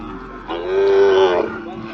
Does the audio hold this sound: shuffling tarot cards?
no